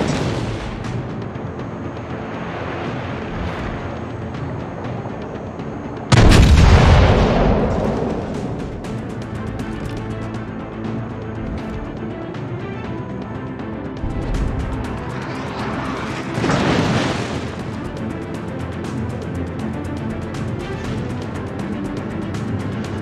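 Warship naval artillery fire in the naval game World of Warships aboard the Gneisenau: a heavy, booming salvo erupts and rumbles away, followed later by a second, softer broadside over continuous ship and engine noise.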